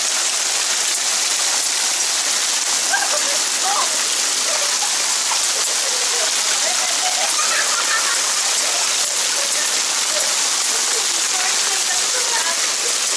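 Heavy cold rain mixed with pea-sized hail during an Oklahoma thunderstorm, a dense, loud hiss of pelting drops with scattered sharper ticks, constant throughout.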